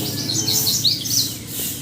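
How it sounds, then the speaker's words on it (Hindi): A small bird chirps outdoors near a lemon tree, giving a quick run of high, bright tweets that repeat over a steady background hiss. "ये देखें यहाँ चिड़िया"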